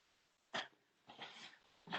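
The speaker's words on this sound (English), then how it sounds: "There is some dog barking" A dog barks outside during an indoor meditation session, giving three short, muffled barks at a distance with quiet gaps between them.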